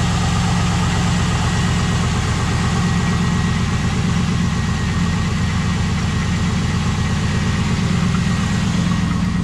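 A 2002 Pontiac SLP Firehawk engine idles steadily and loudly, a constant low rumble with a slight rhythmic knock running throughout, no voices.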